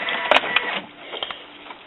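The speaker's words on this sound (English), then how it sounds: "turn the printer on, open it up" A Canon inkjet printer, MX892/MG-series type, hums and whirs as it powers on, with a couple of sharp clicks as the cartridge assembly shifts, steady and close.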